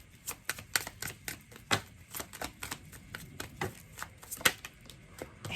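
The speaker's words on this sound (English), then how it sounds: "let's keep shuffling until one comes out" A deck of tarot cards is shuffled by hand in a quiet room, giving a quick, uneven run of crisp papery flicks and riffles that go on without pause.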